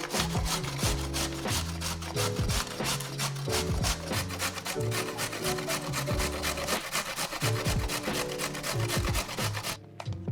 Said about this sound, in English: we're looking for about 2 cups of grated carrots